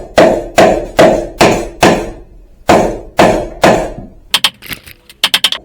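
Wooden joiner mallet made from pallet wood, its head hammered back off with a series of sharp, loud knocks in a steady rhythm, followed by quicker, lighter taps at the end.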